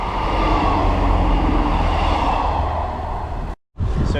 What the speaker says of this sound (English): I think there's a train about to pass us